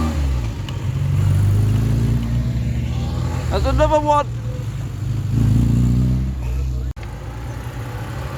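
Classic British Leyland cars rev and drive past at a show at Gaydon, engines rising and falling in pitch as they pass close by, one after another, with someone briefly speaking over the engine noise.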